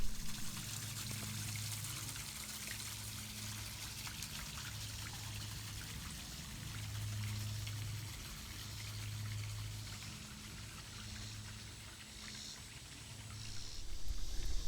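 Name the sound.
small waterfall flowing into a castle moat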